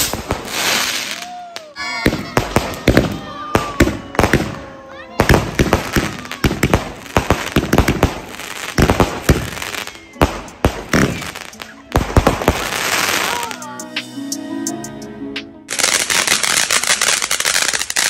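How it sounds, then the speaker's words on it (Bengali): Diwali fireworks and firecrackers go off in rapid crackling bursts and sharp bangs, some close and loud, with a sustained hiss and whistle of rockets and a dense crackle near the end. "এবার টাইম হচ্ছে ফায়ার ওয়ার্কসের"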